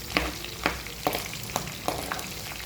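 Hot oil crackling in a pan before mustard seeds go in for semiya upma, with a low steady sizzle and a handful of sharp, evenly spaced pops, no voices.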